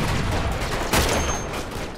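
A Dragunov rifle fires in Uncharted 2 amid dense, continuous battle noise, with one sharp, loud report standing out near the middle of the din.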